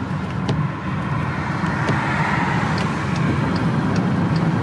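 Steady roadside rumble of trucks backed up in traffic, a dense continuous drone of engines with faint higher whines, loud and close throughout.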